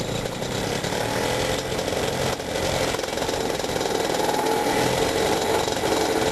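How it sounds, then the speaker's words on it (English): A small off-the-shelf paramotor engine runs with its propeller spinning, a loud, steady buzzing drone that holds throughout with only a brief dip. "To start the engine, I set the throttle to idle, turn on the ignition switch, and then pull the start rope to spin the prop."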